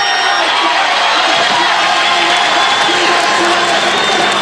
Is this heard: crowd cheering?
yes